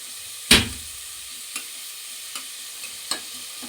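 Food frying in a pan for chicken biryani, browning while being stirred, with a sharp scrape of the spoon near the start and a few softer knocks over a steady sizzle.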